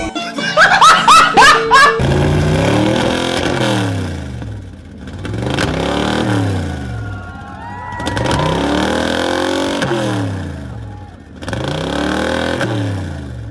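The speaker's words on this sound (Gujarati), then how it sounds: "તમે જે અવાજ સાંભળ્યો ને એ જૂની ગાડીનો અવાજ છે." An old vintage car engine at a vintage car exhibition in Gujarat revving repeatedly, each loud rise and fall of the engine note cycling several times, preceded by a burst of laughter and clatter.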